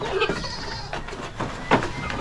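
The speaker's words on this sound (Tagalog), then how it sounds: "Kambing lang yan ha, hindi yan baka." Goat on a rural Philippine farm bleating in a couple of short, fairly close calls over rustling background noise.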